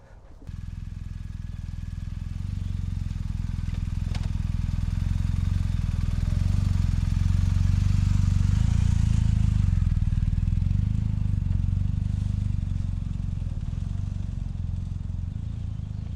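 A motorcycle engine running close by on a street in Albuquerque, New Mexico, a steady low rumble that swells slightly and holds as it idles and revs gently, with no voices.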